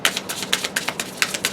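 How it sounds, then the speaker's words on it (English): Tarot cards are shuffled in a quick run of crisp riffles and taps, about a dozen close, sharp bursts in an uneven rhythm with no talking. "I think we'll do one more shuffle"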